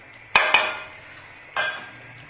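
A metal spoon stirs a potato wadiyan curry with fenugreek and garam masala, clanking sharply against the pot three times, with light scraping between the knocks. The sounds are close and fairly loud, with no speech.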